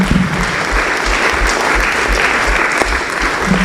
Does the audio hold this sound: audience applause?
yes